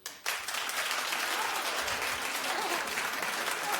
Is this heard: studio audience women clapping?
yes